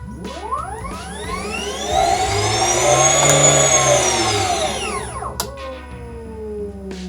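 A smooth electric motor whine from a truck converted from combustion to electric rises steadily in pitch as it accelerates, then tapers off, with a clunk near the end; no talking.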